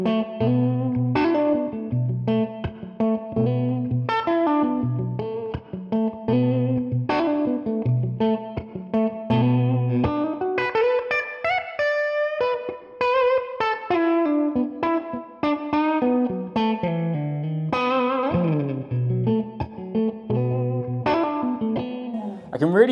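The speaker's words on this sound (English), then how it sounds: "You can get some really funky tones on that pickup." A PRS electric guitar plays melodic phrases through effects such as distortion and chorus, with clear sustained notes and runs that keep a full, steady level throughout.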